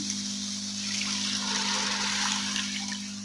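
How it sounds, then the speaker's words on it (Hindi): Water poured into a pan of onion and tomato masala for a black chana curry, a steady close splashing stream running for a few seconds with no talk over it. "अब यहाँ पे मैं इसके अंदर पानी ऐड करूँगी।"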